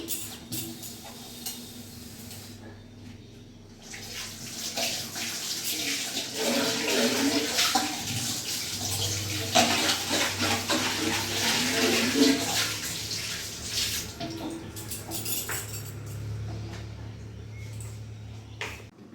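Fish being washed under a running kitchen tap makes a steady splashing flow of water that swells as hands work through it, close and continuous before easing off at the end.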